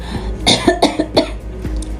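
A person with a cold and a persistent cough coughs several times in quick, rough succession, close and fairly loud, over a low background hum.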